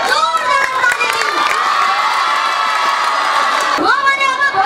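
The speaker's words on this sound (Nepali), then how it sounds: "यहाँको प्रिन्सिपल हुनुहुन्छ सुनेबहादुर सरलाई जोरदार ताली दिनु।" A school audience of students cheers and shouts loudly for the principal, a dense continuous roar of young voices with whoops, rising again in a fresh burst near the end.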